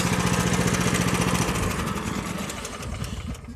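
A Harbor Freight Predator 420cc small engine runs nearby with a steady, loud chugging that eases slightly in pitch partway through.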